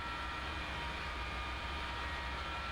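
A steady, even roar of an F-4 jet's right engine running during startup in a flight simulator game, a constant broadband hum with faint tonal whine, no talking.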